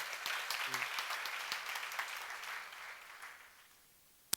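A church seminar congregation claps together in response to a preacher's call, a moderate burst of applause that gradually thins and fades, ending with one sharp clap.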